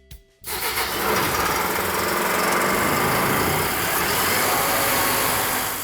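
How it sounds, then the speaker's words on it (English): A wet blast unit's engine cranks and catches after a brief quiet moment, then settles into a loud, steady mechanical running drone that holds for several seconds close by. "now you're just gonna engage the starter and start the unit"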